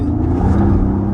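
Mercedes SL65 accelerating hard with wheel spin, a loud, close, steady engine roar with tyre rush filling the short burst.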